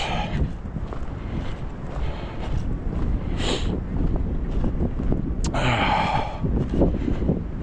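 Wind blowing straight into the microphone on an outdoor walk, a loud, constant low rumble with gusty swells and a few faint breathy sounds mixed in.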